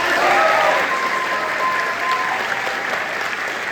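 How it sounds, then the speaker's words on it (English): Audience applause at a school awards ceremony as a jazz ensemble member is honored; steady, dense clapping from a crowd fills the room throughout, slightly louder at the start and easing a little toward the end. "Feel free to clap."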